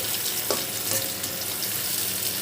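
Onions stir-fried in oil with bay leaf, cardamom and cinnamon give a steady, close sizzle with a few soft stirring scrapes throughout, and no voices.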